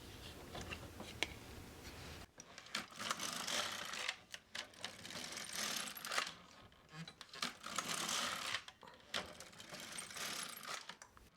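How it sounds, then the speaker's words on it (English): A knitting machine carriage sliding back and forth across the needle bed knitting plain stockinette rows, producing repeated clattering, ratcheting passes in an irregular rhythm with brief pauses between strokes, moderately loud and close. "start knitting a few rows of the plain stockinette stitches"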